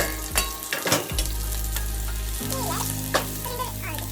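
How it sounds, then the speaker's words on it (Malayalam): Sliced onions and green chillies hit hot oil and fry with a loud, steady sizzle, a few sharp clatters and stirring scrapes near the start. "അത്യാവശ്യത്തിന് എണ്ണ ഒഴിച്ചതിന് ശേഷം നമ്മൾ കട്ട് ചെയ്ത് വെച്ചിരിക്കുന്ന ഓണിയൻസ് ഇട്ട് കൊടുക്കാം"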